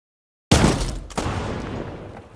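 Gunfire from a VR zombie shooter game: after a moment of silence, a sharp, loud shot bursts out with a ringing tail, followed about half a second later by a second shot that decays slowly.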